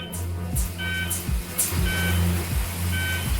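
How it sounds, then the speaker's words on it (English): A fire alarm sound effect going off during a tabletop vampire role-play game: a loud electronic alarm repeating in a steady pulsing pattern of beeps and low tones, with no talking over it. "The fire alarm goes off."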